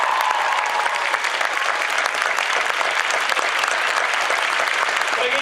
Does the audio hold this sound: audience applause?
yes